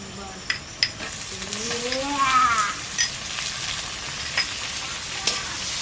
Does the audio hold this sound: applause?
no